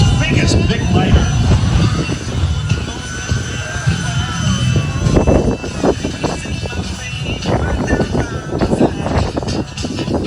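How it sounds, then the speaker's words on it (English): A jet-engine Dodge pickup truck with an afterburner roars steadily at an air show, a loud continuous rumbling blast that persists throughout, with crowd noise and a voice faintly underneath. "the world's fastest Dodge pickup truck with a jet engine on the back"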